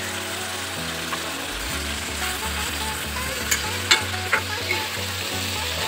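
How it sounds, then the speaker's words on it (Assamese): Curry sizzles steadily in a pan as spices such as turmeric are added, with a continuous loud frying hiss, low rumbling stirring, and a few sharp scraping clicks near the end. "এতিয়া মই ইয়াত দি দিম পলুখিনি আঞ্জা জলহৰি হালধি"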